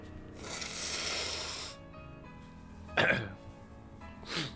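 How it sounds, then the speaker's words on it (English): A long, hissing nose blow lasting over a second is followed by two short, sharp snorting sniffs, with a soft tonal hum underneath. "gotta blow my nose, sorry, excuse me"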